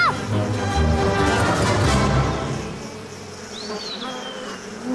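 Bee buzzing loudly and steadily in an animated kids' adventure story, a dense droning hum with pitch swoops as it flies close, over background music.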